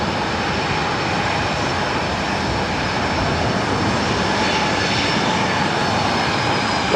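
Southwest Boeing 737-700 jets fly over LAX with a steady, loud, close jet roar that holds unbroken throughout, no voices heard.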